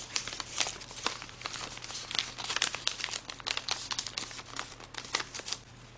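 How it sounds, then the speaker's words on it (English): Paper flaps of an origami flapping bird are folded over by hand, giving close, quiet crinkling and crisp rustles in irregular bursts, with no talk. "Now what you want to do is you want to just fold these flaps over,"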